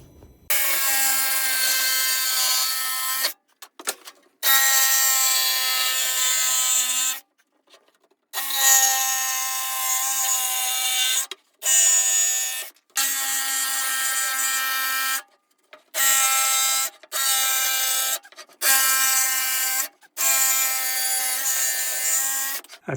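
A saw cuts Adirondack chair parts out along a template, running loud and close in repeated bursts of a few seconds each, separated by short silent pauses, with no talk.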